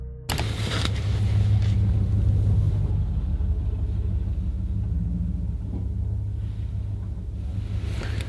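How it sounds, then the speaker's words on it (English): A truck does a burnout outside a campsite, a loud, sustained engine roar with deep rumble that holds steady for several seconds, with no talking. "They just did a burnout in their truck."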